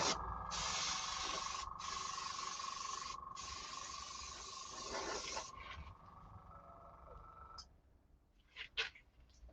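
An airbrush sprays yellow paint in a steady hissing burst with two brief gaps, then stops, leaving a few short puffs and quiet background.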